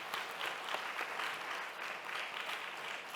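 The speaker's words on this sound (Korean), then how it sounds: "우리 서로를 위해서 박수 한번 합시다." Steady applause from a church congregation during a Sunday service, dense clapping that holds at an even level throughout with no voices standing out.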